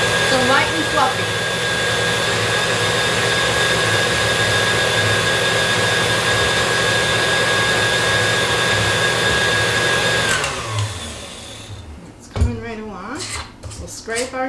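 An electric stand mixer beats cookie dough for old fashioned oatmeal chocolate chip cookies with a steady, loud whirring drone that cuts off near the end, followed by clinks and faint talk.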